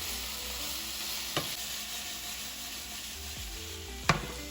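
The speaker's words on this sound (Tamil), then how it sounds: "இந்த மாதிரி தான் வந்து ஆயிலில் ஃப்ரை பண்ணி தான் செய்கிறாங்க" Food frying in oil in a pan makes a quiet, even sizzle, with two sharp utensil clinks partway through and near the end and no talking.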